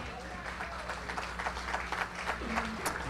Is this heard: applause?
yes